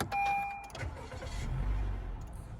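A Honda Fit Jazz GK3 starts with a brief high whine and a quick crank, then settles into a low, quiet idle hum that carries on close by.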